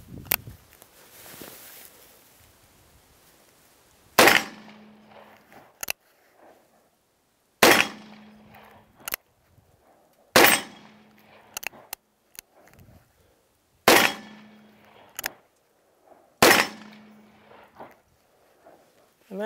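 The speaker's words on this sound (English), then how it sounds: "let's go ahead and showcase that for you, and we'll put some rounds on steel" A Freedom Arms Model 83 .454 Casull revolver fires at steel targets outdoors, five loud, widely spaced shots, each followed by a faint metallic ping of the hit and short echoes, with quiet gaps between.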